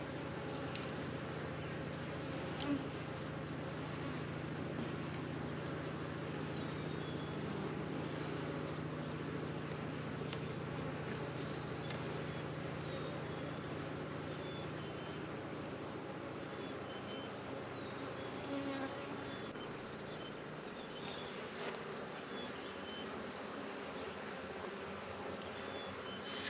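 Honeybees hum at an open hive during a yard split, a dense, even drone that holds steady throughout, with a few faint higher buzzes and clicks near the hive frames.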